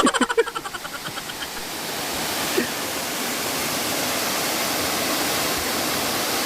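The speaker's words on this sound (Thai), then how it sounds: "เป็นน้ำตกเล็กๆนะไม่ได้ไม่ได้ใหญ่มากนะ" A small waterfall at Sathit Falls in Kanchanaburi, Thailand, pours in a steady, broad rushing wash that fills the scene after a few faint knocks at the start.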